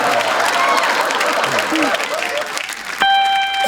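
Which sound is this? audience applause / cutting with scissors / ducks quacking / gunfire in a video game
audience applause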